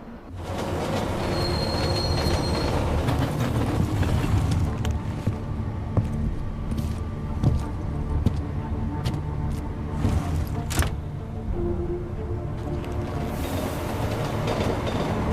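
A train pulls into a station in Deus Ex: Mankind Divided, a loud continuous rumble of rolling wagons with clacking wheels, scattered metallic clanks and brief squeals, heard close and unbroken with no talking.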